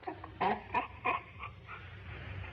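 A dog whimpers in a 1967 film scene, giving a few short, thin, whiny cries in quick succession close by, then trailing off into quieter faint noise.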